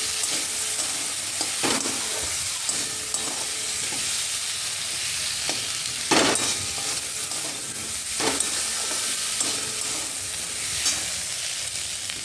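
Grated ginger fries in oil in a pan as a curry for dal puri is started, a steady close sizzle with repeated scraping stirs of a spoon every second or two and no talking.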